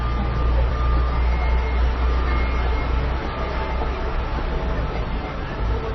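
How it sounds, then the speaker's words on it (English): A tram passing along a Christchurch city street, a loud steady low rumble and rolling roar close by, filling the whole stretch with dense street noise. "Oh, there's the tram."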